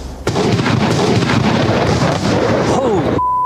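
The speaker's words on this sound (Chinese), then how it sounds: "天空突然刮起大风，一阵雷声把他们从庇护所内惊醒" Thunder rolls loudly through a windy storm over a wilderness shelter, a heavy sustained rumble that fills most of the clip and cuts off abruptly, with a faint tone lingering at the end.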